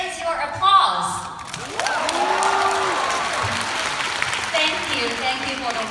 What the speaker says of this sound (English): Where is your applause?